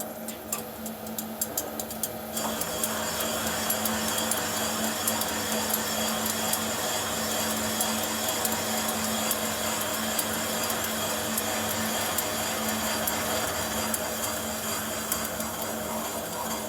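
A power tool grinds out the port throat of an S&S 107ci or 113ci Evo motorcycle cylinder head, running as a steady, dense, close whine after a brief rattling start-up.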